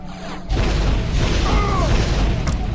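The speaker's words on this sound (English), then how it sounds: "Fires a volley of 3 missiles." Scorpion missile launcher in the shooter game Turok 2 firing a volley of three missiles: an abrupt loud launch burst followed by a sustained roaring whoosh, with no talk.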